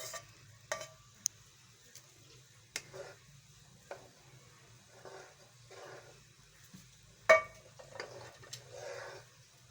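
Soft bubbling and sizzling from milk boiling in a pot on the stove for sheer khurma, with scattered clinks and ticks, fairly quiet and close.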